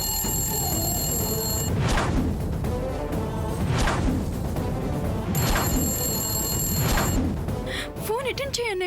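A telephone rings unanswered in loud, repeated bursts of bell-like tone, each burst a couple of seconds long, over a dense background of voices and music in a TV drama scene.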